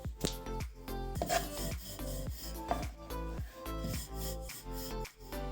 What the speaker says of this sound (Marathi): अशी मस्त हलक्या हाताने लाटायची